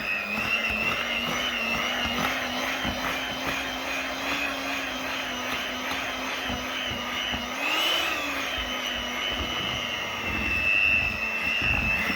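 Electric mixer beating batter for a yogurt and plum cake, a loud continuous whine with wavering pitch, close by and running alone without talk.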